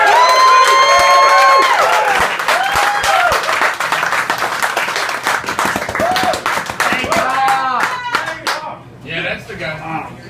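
Loud, dense applause and cheering from a comedy audience greeting a comedian at his first stand-up set, with whoops and shouts on top, gradually thinning out toward the end as voices take over.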